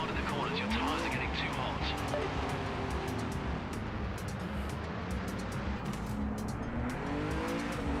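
Race cars in a racing video game roar with squealing tyres, a continuous engine drone layered with tire screech and rising and falling pitch, heard under an excited voice.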